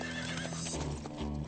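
A horse gallops nearby during an outdoor chase, its hoofbeats and snorting breath running briefly and fairly loud, with no talk.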